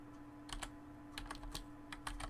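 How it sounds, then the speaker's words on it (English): Quiet typing and clicking on a computer keyboard during a live stream, with scattered keystrokes in short bursts over a faint steady hum. "Ignore some of the typing and me clicking all over the place."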